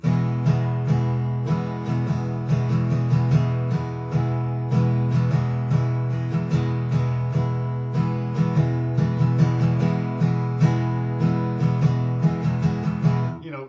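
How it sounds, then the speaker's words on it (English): Steady guitar strumming in an even hip-hop groove, plain repeated strums with no accents or muting, played close and continuous throughout. "If I just did pure strumming"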